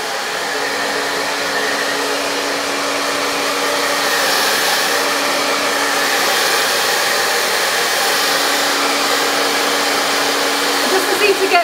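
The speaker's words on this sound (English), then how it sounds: "and then I'll go in with the air styler" A handheld air styler hair dryer blows loudly and continuously at close range while drying hair by hand, a steady rushing whoosh that swells slightly midway and holds to the end.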